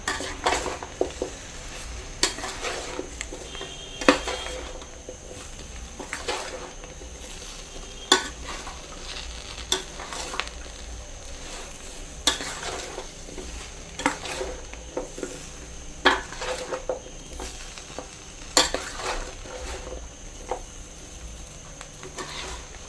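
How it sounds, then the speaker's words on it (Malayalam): A spoon stirs a Kerala-style dates pickle in a pan, giving a continuous scraping, sizzling texture punctuated by regular metallic clinks of utensil against pan. "നല്ലപോലെ അടികൂട്ടി ഇളക്കിയെടുക്കും"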